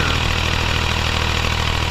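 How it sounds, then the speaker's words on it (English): A Ford utility tractor on race tires runs steadily between sweet corn rows while cultivating, its engine a continuous, loud, even drone close by with no break or talk. "who would think a Ford utility would be a great row crop tractor?"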